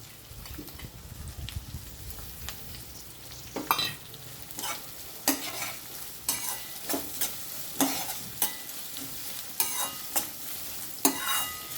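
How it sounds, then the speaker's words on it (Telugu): Thinly sliced onions go into a pan of fenugreek leaves for a fish curry, sizzling and frying steadily while a spoon stirs and scrapes in repeated clear strokes, close and moderately loud, no talking. "ఇప్పుడు సన్నగా తరుక్కొని పెట్టుకున్న ఉల్లిగడ్డలు వేసుకుంటాను"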